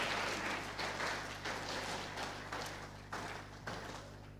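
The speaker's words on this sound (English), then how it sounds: "Can we please give him a resounding round of applause and keep the applause coming till he gets here." Faint, distant clapping from a crowd at a national dialogue and awards event as a minister arrives, a muffled patter with soft rhythmic thumps over a constant low hum.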